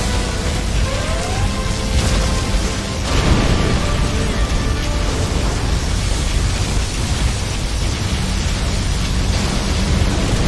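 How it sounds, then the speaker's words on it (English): Particle cannon firing in C&C Generals Zero Hour, a loud sustained roaring wash of noise with a swelling surge around a third of the way in, continuing dense to the end. "Particle cannon activated."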